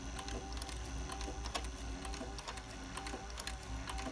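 An industrial sewing machine stitches leather while run with one hand, giving a continuous close mechanical whir and rapid needle clatter throughout, with no talking.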